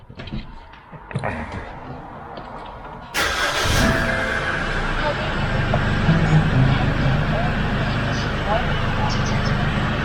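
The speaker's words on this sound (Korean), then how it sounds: "지금 아이들링 상태에서도 약간 바람 빠지는 소리, 휘파람 소리 뭐 비슷하게 나고 있어요" Car engine idling with an air leak from a loose intake hose, a steady mid-range hum that settles in after a sudden step up in level, with someone talking over it.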